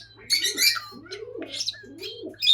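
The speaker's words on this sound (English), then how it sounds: "Star is an invasive species, European starling." A European starling at an animal sanctuary calls in a quick series of whistles, rasps and warbling chirps, close and fairly quiet, with a steady low hum behind it.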